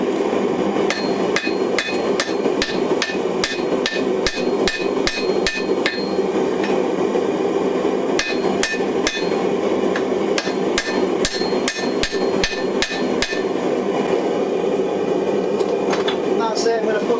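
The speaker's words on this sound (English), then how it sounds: "I'm not going to hit it very hard, this steel." Hot steel being forge welded on an anvil with a hammer: sharp metallic strikes fall in quick clusters, separated by short pauses, over a steady workshop hum.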